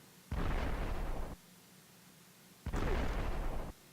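Two heavy artillery blasts in a North Africa tank battle video game, each a dense roaring burst lasting about a second, separated by a quiet gap over a faint low hum.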